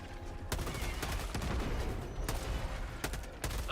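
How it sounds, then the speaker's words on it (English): Grenade blast and gunfire in Helldivers 2, with sharp loud bursts and shots punctuating steady background battle noise, several strong hits spaced across a few seconds. "Throwing grenade."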